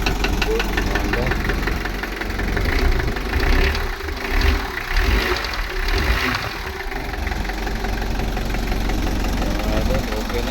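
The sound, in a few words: Mitsubishi L300 engine running after timing belt replacement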